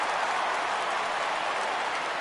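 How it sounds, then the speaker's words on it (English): Steady crowd roar from a baseball video game on PS4 as fans rise for a full count, a continuous broad wash of stadium noise at even volume throughout. "Crowd gets up for the 3-2."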